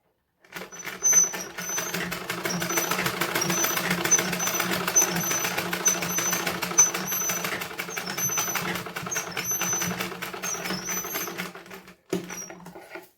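Close, steady whir and rapid needle clatter of a sewing machine running through blouse fabric, with a short start and a brief pause before a final burst; no voices.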